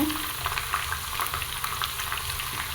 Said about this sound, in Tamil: நல்லா எண்ணெய் காய விட்டு ஃப்ரை பண்ணி எடுத்துக்கோங்க.